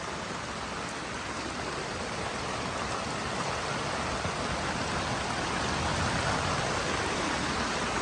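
Heavy rain pours down in Chaiyaburi, a dense, steady hiss that fills the whole stretch without a break and builds slightly toward the end, with no voices.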